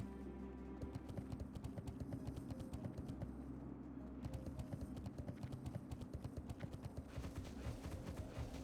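A horse mount in World of Warcraft Classic: Burning Crusade clip-clops steadily, the rapid rhythmic hoofbeats continuing throughout at a quiet level under faint background music.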